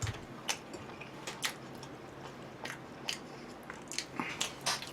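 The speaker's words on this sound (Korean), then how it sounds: "원래 이렇게 쩝쩝거리고 먹니?" Close-up chewing and biting while eating barbecue and fried shrimp, a faint series of quick wet crunches and smacks repeating irregularly, with no talking.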